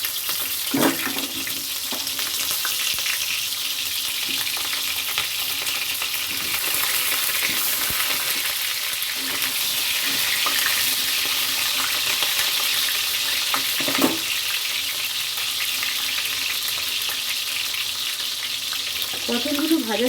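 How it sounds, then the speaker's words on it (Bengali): Pointed gourd (potol) pieces frying in a generous amount of oil in a kadai, a continuous close sizzle with a few brief knocks and clatters as they are moved about. "এবার ভেজে নেব পটল।"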